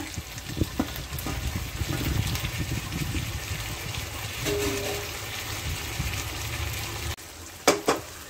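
Ginger garlic paste and tomato sauté in a pan for a shark fish gravy, giving a steady close sizzle with scraping and stirring bursts throughout, then a brief pause and a couple of sharp utensil knocks near the end.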